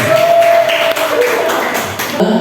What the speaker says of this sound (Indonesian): Boleh tepuk tangan buat Pak Bima.